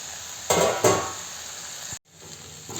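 Flat bean and potato sabzi cooks in a kadai under a plate lid, with a soft constant sizzle. Two louder bursts of crackling come early, followed by a brief dropout, and no voices are heard.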